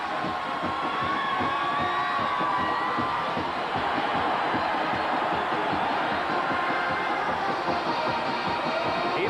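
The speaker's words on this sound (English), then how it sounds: "You talk about the Tennessee crowd getting into it, just listen." A Tennessee home crowd at a 1986 college football game against Alabama roars steadily, with broad, sustained cheering and shouting filling the stadium at a constant loud level.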